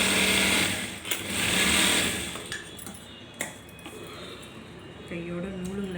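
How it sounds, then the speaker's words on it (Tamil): A sewing machine stitches a seam in fabric in short, loud bursts of fast mechanical whirring separated by pauses, with a brief voice near the end. "அப்படியே கீழே அந்த டென்னிஸ் அகலத்துக்கு தையல் போட்டுக்கோங்க."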